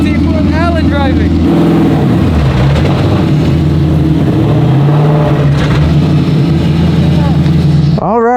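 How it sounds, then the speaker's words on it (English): A Ford Mustang GT4 race car engine revs and shifts through gears, loud and continuous, with a sharp rising rev at the end; voices talk over it. "Here we have the Mustang GT4 with Alan driving"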